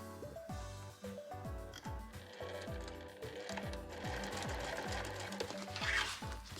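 Sewing machine stitching a 5 mm seam through a small fabric tab layered into a Liberty cotton and nylon pochette, a steady rapid mechanical chatter with rhythmic needle thumps running continuously and close.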